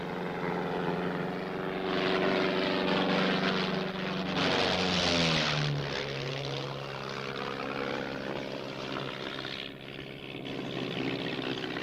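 A propeller airplane passes low overhead, its steady droning engine swelling loud with a falling pitch sweep as it crosses, then fading into a continuing hum.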